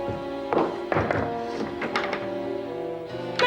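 Heavy thuds on a locked wooden door come in irregular bursts of knocking and banging, close and fairly loud over a room hum.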